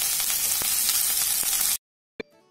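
Carrots, beans, sweet corn and capsicum fry with ginger-garlic paste in a pan, a loud, dense sizzle that suddenly cuts off, followed by a single sharp knock and faint after-sound.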